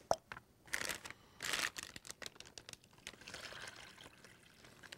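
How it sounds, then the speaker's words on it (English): Pork chop brine, smelling of apple cider, poured carefully over the chops in a kitchen: close, uneven splashing and trickling in bursts over about five seconds, with short pauses between pours and no talk. "Pour in the brine really carefully."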